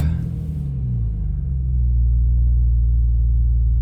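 Alfa Romeo 155 engine running shortly after a cold start, a loud steady low idle rumble that settles after a brief higher burst at the start, with no talk.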